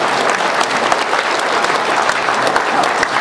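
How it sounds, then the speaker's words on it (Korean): Loud, dense crowd applause at a Korean conservative rally, a tribute called for by the speaker, sustained and even, with many hands clapping close by and no voices rising above it. "여러분 이럴 때는 경의의 박수 좀 쳐주세요"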